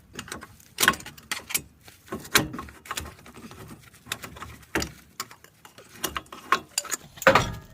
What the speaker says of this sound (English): Pop this whole CV axle out from the